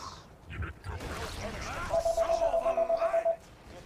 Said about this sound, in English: Someone's phone's ringing.